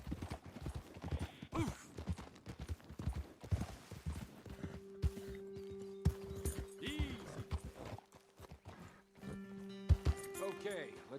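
Horses in Red Dead Redemption 2 clip-clopping steadily on a hillside trail, with a whinny and snorts partway through, under a musical drone and brief spoken remarks from a rider.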